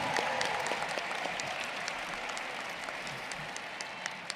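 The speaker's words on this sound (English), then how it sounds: "we ask that you moderate your applause until the completion of the ceremony" Sustained audience applause at a high school graduation ceremony, dense crowd clapping filling a large space at a steady level throughout, with no speech over it.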